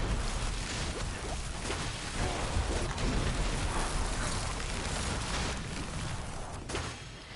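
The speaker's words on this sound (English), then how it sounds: "Just go ahead and rock them all with my rain of arrows." Rain of Arrows skill in Diablo IV, a dense, sustained hail of arrow impacts and crackling hits pattering loudly throughout like heavy rain, with no talking.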